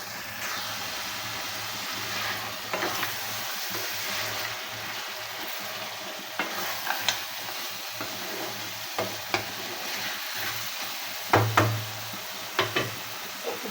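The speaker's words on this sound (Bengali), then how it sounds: "মাংসের সাথে মশলাটা এভাবে খুব সুন্দর করে নাড়াচাড়া করে মিশিয়ে নিতে হবে" Chicken and spices sizzle steadily in a hot pan for desi chicken curry with potatoes, with repeated scraping stirs of a utensil cutting through the frying close up.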